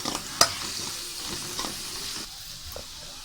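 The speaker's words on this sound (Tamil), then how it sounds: "ஸோ அதையும் வந்து உள்ள போட்டு நல்லா வதங்க விடுங்க." Tomato with ginger garlic paste sautéing in a pan for a prawn curry, a steady soft sizzle with a sharp clatter of stirring near the start and lighter scrapes after, no voices.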